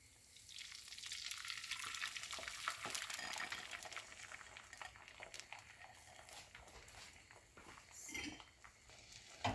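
Egg mixture for a fluffy cheese omelet sizzles steadily in melted butter in a pan, a soft continuous frying crackle with occasional light clinks of utensils against the pan.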